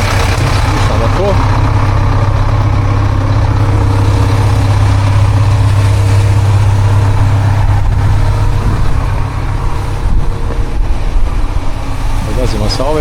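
A Scania Liebherr LTF 1045 crane truck's engine idles with a steady, loud low drone and strong harmonic hum throughout, while someone talks over it nearby.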